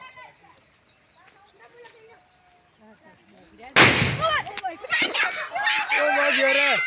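Diwali firecrackers including a sutli bomb go off in a field, one sharp loud bang followed by crackling pops and lingering noise, with faint chatter and movement sounds before the blast.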